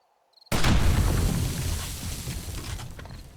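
A sudden loud blast from blocks blown up in the video game 7 Days to Die, a heavy boom with a deep rumbling tail that slowly fades over a few seconds; a couple of small clicks come just before.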